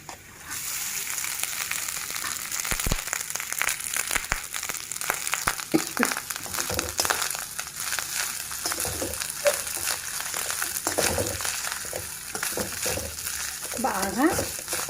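Cooked basmati rice is stirred into a hot frying pan for coriander lemon rice, giving a steady, close sizzle with continuous spoon scraping and tossing for the whole stretch, no talk.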